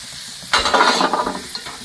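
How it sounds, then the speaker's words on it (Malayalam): Cashews and raisins drop into hot oil and burst into a bright, crackling sizzle that swells then settles over under two seconds, with faint stirring clinks, close and alone. "നമുക്ക് അണ്ടിപ്പരിപ്പ്, മുന്തിരി ഒന്ന് വറുത്തെടുക്കാം"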